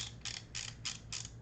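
Ratcheting adjustment dial on a Meta Quest 2 headset's head strap, clicking through four short, evenly spaced bursts of rapid plastic clicks, close and fairly quiet, with no talking.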